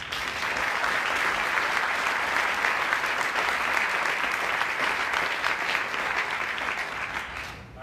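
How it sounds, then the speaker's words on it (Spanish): An audience at a university book presentation breaks into loud, sustained applause, a dense wash of clapping that holds steady for several seconds before tapering slightly at the end. "les pido nuevamente un fuerte aplauso"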